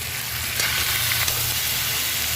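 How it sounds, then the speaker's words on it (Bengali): Paneer fries with potatoes in a pan for an aloo paneer curry, giving a continuous close hiss and sizzle with a few faint scrapes of stirring and no voices. "পনিরটা দিয়ে আর একটু কষিয়ে নিব।"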